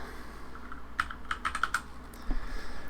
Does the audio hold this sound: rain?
no